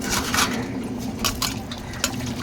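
Dishes, plates and pots get washed by hand with water carried in from elsewhere, giving close, continuous clinks, scrapes and watery splashes with a few sharper knocks of metal utensils.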